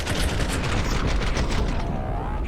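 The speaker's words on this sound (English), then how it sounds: "I think I heard a couple of M4 bullets there" M4 rifle bursts in a Counter-Strike esports match crackle as rapid, dense gunfire, loud and continuous over the brief moment with no voices.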